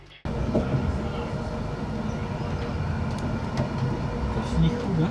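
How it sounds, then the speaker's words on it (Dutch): Belgian IC intercity train bound for Oostende, heard from on board as a steady, loud rumble of wheels and carriage noise that continues throughout, with voices in the background. "Van deze IC-trein met bestemming Oostende."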